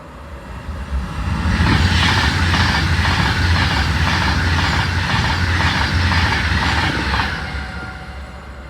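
A Glasgow to Euston train passes by, a loud rushing roar rising over about a second, holding steady with rhythmic wheel clatter, then fading away near the end.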